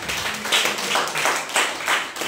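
A church congregation claps together in rhythmic bursts, about five or six firm beats close by and filling the room, with no voices.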